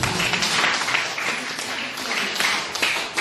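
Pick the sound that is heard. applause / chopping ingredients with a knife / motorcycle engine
applause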